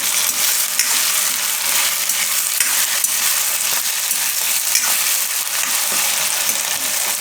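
Potatoes cook in hot oil in a pan, making a loud, constant sizzle with faint stirring scrapes throughout.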